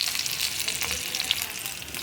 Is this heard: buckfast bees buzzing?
no